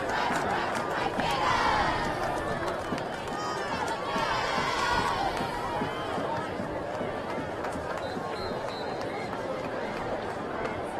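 Steady roar of a large crowd at a college football game in the fourth quarter, with mixed shouts and chatter blending into a continuous, dense wash of noise throughout.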